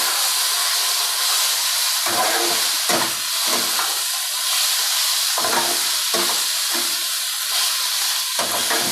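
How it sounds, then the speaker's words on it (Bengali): Ginger paste sizzles steadily in a hot cooking pan for a curry-style dish, with a constant fry hiss broken by repeated scraping strokes of a spatula as it is stirred, close and fairly loud, no talking. "আদা বাটা দিয়ে একটু নাড়াচাড়া করে"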